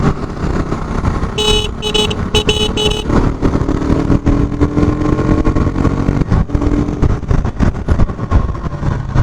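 A 2021 KTM RC 200 motorcycle engine runs loudly and unevenly close by during a front brake test, with traffic noise and a brief horn toot early on.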